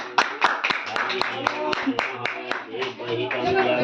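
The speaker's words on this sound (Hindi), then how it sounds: "ताली बजाओ।" Several people clap hands at an engagement ceremony, a loose rhythmic run of sharp claps close by, while people speak over it.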